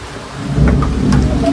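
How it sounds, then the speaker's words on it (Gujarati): A heavy downpour in Surat roars steadily while a low rumble of thunder swells in the background, loud and close with no voices. "કેવો વરસાદ ને વીજળી શરૂ એટલે વીજળી કડાકા કેટલા થાય"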